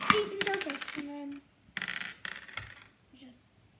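Hard plastic dice clatter and rattle inside a cup for dice stacking on a flat surface, coming in a few quick bursts separated by brief pauses, recorded close with no talking over them.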